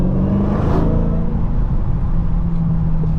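A Dodge Hellcat Jailbreak in SRT track mode accelerating, a steady loud engine drone and rumble that builds slightly at the start and holds through, with no talk.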